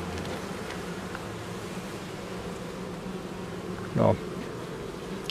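Honey bees hum steadily inside a hive during a winter check of colony stores, a continuous low buzzing drone with a brief louder burst near the end and a short spoken word at the start.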